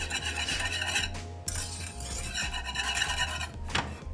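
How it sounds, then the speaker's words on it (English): Lemon curd made with egg being stirred in a pot to keep it from boiling, a continuous close scraping and rubbing of a utensil against the pan with occasional small clinks, no talk. "We just have to just keep stirring it so it doesn't boil."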